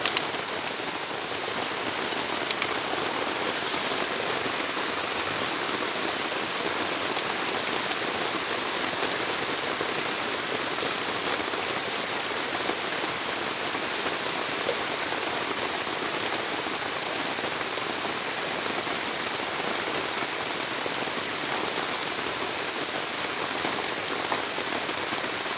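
Steady rain falls for the whole stretch, a dense, even hiss of drops hitting surfaces with no pauses and no voices, constant and fairly loud throughout.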